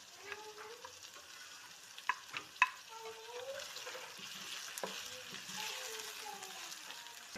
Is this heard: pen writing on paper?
no